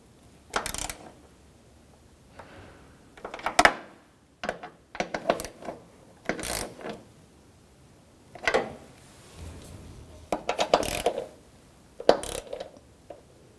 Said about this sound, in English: With a 10mm socket, you're going to torque down the mounting bolts to the headlight 25 inch-pounds